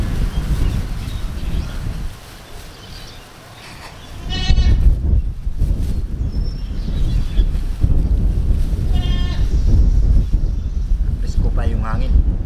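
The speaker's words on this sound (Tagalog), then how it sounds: "Kambing. Kambing. Kalabaw pa." Goats bleating on a farm, several wavering bleats at separate moments, some near and some farther off, over a steady windy outdoor rumble with occasional voices nearby.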